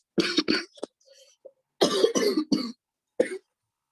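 A few sharp coughs in quick succession, close and fairly loud, followed by a pause and another short burst of coughing, with faint throat noises between.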